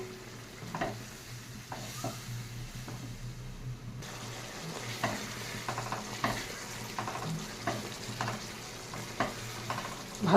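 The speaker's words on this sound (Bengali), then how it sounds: "ভালো করে মশলাটাকে কষিয়ে নিচ্ছি" Spice paste of chili, cumin and turmeric sautéing with tomato and salt in a pan, a steady sizzle under repeated scraping stir strokes, fairly close and moderately loud throughout.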